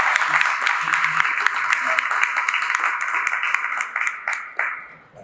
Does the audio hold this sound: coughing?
no